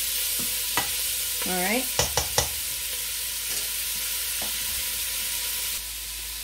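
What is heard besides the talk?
onions frying in a pan on the stove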